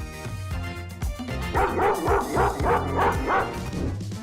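A dog barks and yips in a quick series of sharp, close calls, mixed with some whimpering. The barks come in a steady rhythm with no talking.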